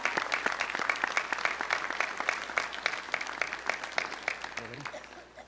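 Audience applause at a school district board of trustees meeting, a steady patter of many hands clapping throughout at moderate level, with some murmured voices underneath and a faint low voice near the end.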